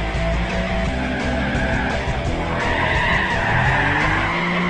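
Cars drifting in the racing video game Gran Turismo Prologue, with loud continuous engine roar and tire squeal sustained throughout, no pauses.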